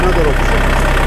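A brand-new tractor's engine idles in a low, steady rumble during a dealer service delivery, briefly heard with people talking over it.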